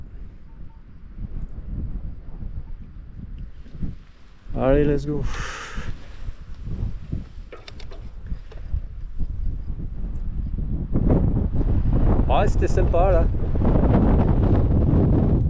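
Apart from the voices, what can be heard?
strong wind blowing while riding an electric mountain bike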